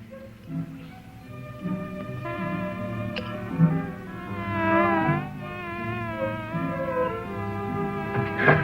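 Wild bees buzzing steadily outdoors, a continuous droning hum with shifting tones, fairly close and without talk.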